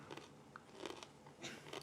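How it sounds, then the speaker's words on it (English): Crisp crunches of teeth biting into a pickled onion during a family vinegar taste test, four quiet bursts spread across a short stretch with no talking. "I can hear the crunch from here."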